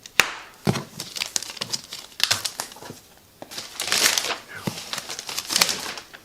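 Plastic wrapping being cut and torn open on a new BESTARC BTC 500 DP plasma cutter, with close crinkling, crunching rustles in irregular bursts and short sharp snips, loud and alone.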